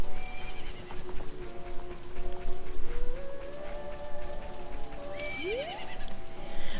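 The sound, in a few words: horse neighing and galloping in Zelda Ocarina of Time video game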